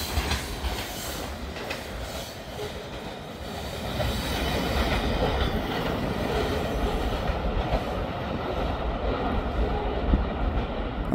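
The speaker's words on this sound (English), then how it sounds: "I've already got the train off the siding back onto the main." A freight train with locomotives rolls past on the main line, a loud, continuous rumble and rattle of wheels with rhythmic clatter building in intensity through the middle and end.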